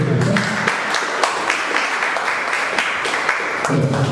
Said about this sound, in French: Est-ce qu'on peut applaudir les hommes, s'il vous plaît?